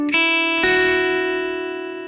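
Clean electric guitar lead fill from a song, played higher up the neck: two picked notes struck in quick succession, the second ringing out and slowly fading, alone and close.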